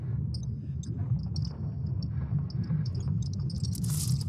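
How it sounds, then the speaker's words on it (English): A sonification of Earth's magnetic field built from ESA Swarm satellite data gives a low, churning rumble. Scattered crackles and clicks run through it, and a hiss swells near the end. It plays continuously and faintly, with no voices. "It's actually the sound of Earth's very own magnetic field."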